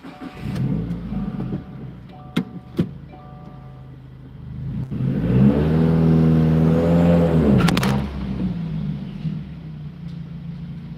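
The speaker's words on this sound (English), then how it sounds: "So you get this car off the dyno." A car rumbles off a dynamometer, its engine revving up in a steady rising tone for a few seconds before easing back to a low idle, with some clanks and knocks around it.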